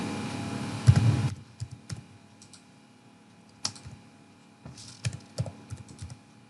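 Keys clack on a computer keyboard as a search keyword is entered, a burst of close, brisk strokes followed by scattered taps with quiet gaps between them.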